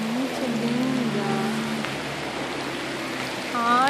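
Rain falls steadily outdoors in a park, a constant soft hiss with scattered drops, while a voice and faint tonal calls drift through the background.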